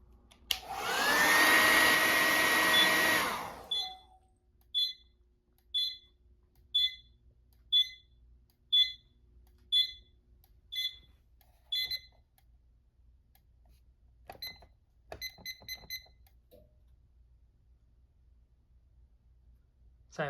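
An FCI FC-73 fire alarm system goes off after a heat detector is activated: a loud hot-air blast from heating the detector, then a series of sharp, regular electronic beeps, followed by faster bursts before falling silent.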